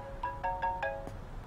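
A mobile phone rings with a short electronic melody of four or five quick tonal notes, clear and fairly close, with no voices.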